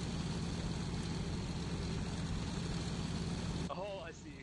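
A plane engine drones in flight in the video game DayZ Origins, a steady broadband roar held at even loudness until it thins near the end, with no talking over it.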